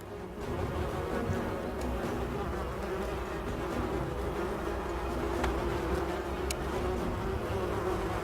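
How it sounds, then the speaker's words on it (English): Video game wasps attacking produce a continuous, fairly loud insect buzz that drones on for several seconds with a few faint clicks and no speech. "do the wasps sound like kamikaze airplanes when they attack?"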